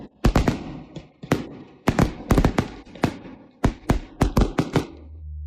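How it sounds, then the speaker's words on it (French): Fireworks go off in a rapid irregular string of sharp bangs and crackles, about twenty bursts over several seconds, loud and close, with no voices. "Les feux d'artifice sont magnifiques."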